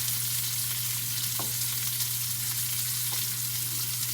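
Stuffed catfish frying in a pan, a steady close sizzle with a constant low hum underneath and a couple of faint clinks; no one talks.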